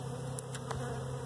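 Honey bees drone steadily around an opened hive during a spring brood nest inspection, a continuous close buzz with a few brief higher clicks on top.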